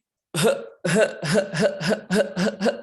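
A person's voice imitates a whooping cough (pertussis) fit: a long run of about seven harsh, rapid, unbroken cough bursts after a brief silence, loud and close.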